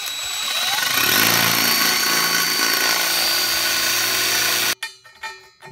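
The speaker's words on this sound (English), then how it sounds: "I'm gonna drill some screws or some holes in the ends" Power drill boring holes into the ends of wooden fence boards for a chicken enclosure, a loud continuous whine lasting several seconds that stops abruptly, followed by a few light knocks.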